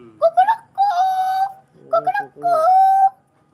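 A boy imitates a rooster crow twice, each a short stuttering start followed by a long, held, strained note, close to the microphone.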